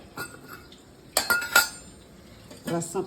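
A ladle clinks against a bowl while rasam is served at home, with a few sharp metallic taps close by and voices talking quietly in the background.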